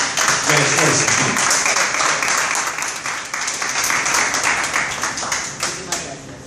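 Audience applause for a theater director and cast after a stage show, a dense sustained clapping that stays loud throughout with some voices mixed in.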